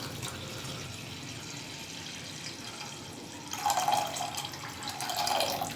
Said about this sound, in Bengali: দিয়ে দেবো এতে পরিমাণ মতো জল